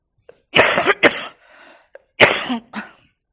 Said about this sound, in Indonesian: Maaf teman-teman ya, batuk.